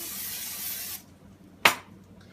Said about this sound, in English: we'll spray the pan one more time